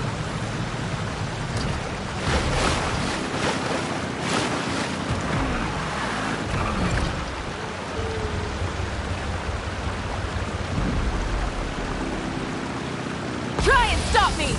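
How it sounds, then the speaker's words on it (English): Boat engines rev on open water in the game Genshin Impact, with a steady rush of surf and wind and a broad engine roar running the whole way through, loud and continuous. "Rev the engines!"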